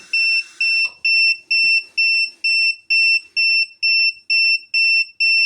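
A handheld gas detector held near a convector's gas outlet beeps loudly in a steady, even series of about a dozen tones. A brief hiss comes at the start, and there is no talk.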